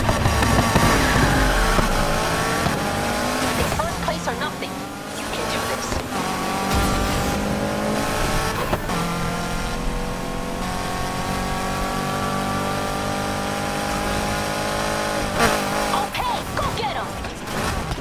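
Cars race in Need for Speed Heat, a steady loud engine roar with rising and falling revs, gear shifts and occasional tire squeal throughout.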